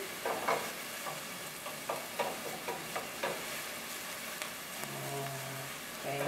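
Onion frying in a pan for stuffed calamari, a soft, fairly faint sizzle with repeated light clicks and scrapes of stirring throughout.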